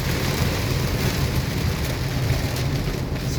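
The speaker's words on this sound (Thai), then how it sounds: "วันนี้ฝนตก" Heavy rain in a storm pours down in a dense, continuous hiss, with a low rumble underneath that suggests distant thunder; no one speaks.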